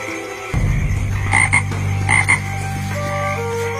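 A bullfrog croaking in the wild, several deep resonant calls in quick succession, close and clear over a quiet background.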